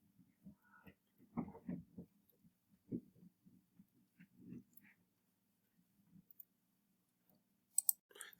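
A computer mouse clicks several times at a quiet desk, sharp isolated taps spread irregularly with faint room noise between them.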